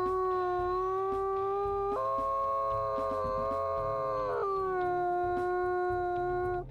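A single wolf in the video game WolfQuest howls in one long, sustained, clear cry that jumps higher in pitch partway through, then drops back, over a low steady hum.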